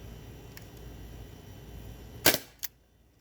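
A CO2-powered gun fires a few sharp shots during an ammunition test: two faint pops, then a louder crack and one more quick shot, each short and distinct against quiet background hiss.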